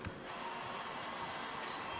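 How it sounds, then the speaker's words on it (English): A surgical central drill runs steadily during shoulder surgery in an operating room, giving a constant close whir that holds evenly for its whole length with no voices over it. "So my central drill goes on now."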